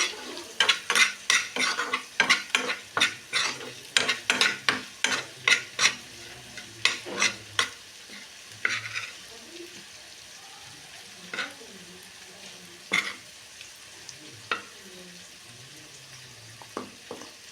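Homemade paneer cubes are stirred into a frying masala in a pan, a busy run of close spoon scrapes and clinks over a soft sizzle that thins out into occasional stirs.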